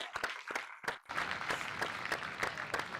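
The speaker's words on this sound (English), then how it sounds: "would you please give a loud round of applause to the coaches, players, staff, and everyone who came out tonight for this awesome game" Crowd at a baseball all-star game applauding coaches, players and staff: a few sharp separate claps open, then a sustained ragged patter of many hands, moderately distant.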